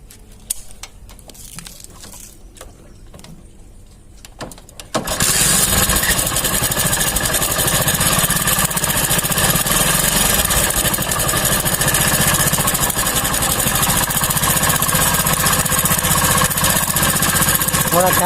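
A Hero motorcycle engine with timing chain noise starts up after a few quiet seconds of handling, then idles loudly and steadily at close range with a constant rattling mechanical clatter.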